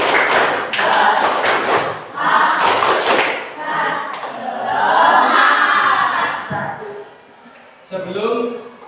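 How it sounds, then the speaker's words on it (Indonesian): A classroom group of children does a rhythmic clapping chant, tepuk semangat: bursts of sharp claps and thumps alternating with voices chanting together, loud and close. "mari kita tepuk semangat dulu"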